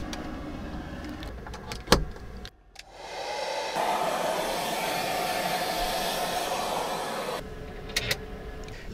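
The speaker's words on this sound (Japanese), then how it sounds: "とりあえずパジャマに着替えて髪の毛乾かします。" Hair dryer drying hair inside a used camping car, about 13 years old, parked overnight: after a click and some shuffling, a steady close whirring blow runs for several seconds, then cuts off.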